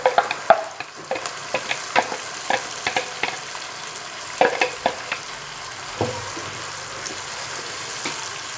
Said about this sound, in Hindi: अब हम इसमें अदरक और लहसुन का पेस्ट डालेंगे और चॉप किए हुए टमाटर डाल देंगे